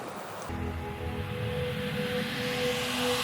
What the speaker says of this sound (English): Look at the speed that water's flowing at.